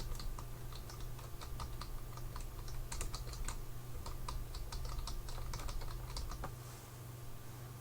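Quiet, rapid keystrokes on a computer keyboard click along in irregular bursts for several seconds, close by and steady, with no talking.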